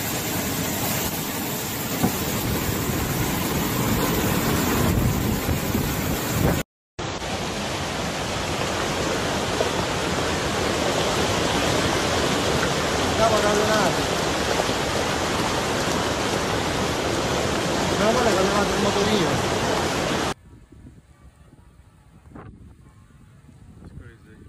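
A powerful storm in Sicily roars as a dense, continuous wash of torrential rain and strong wind buffeting the microphone, loud and unbroken before cutting to near quiet at the end.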